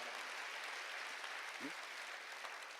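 Church congregation clapping together during a Korean sermon, a soft, steady wash of many hands heard from a distance with faint crowd murmur beneath.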